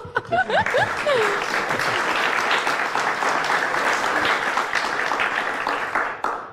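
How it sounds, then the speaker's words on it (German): Enthusiastic applause from an audience at a local election forum at a festival in Dresden, a dense steady clapping that swells quickly, holds for several seconds and then tapers off, with a little laughter early on. "Großer Applaus nochmal"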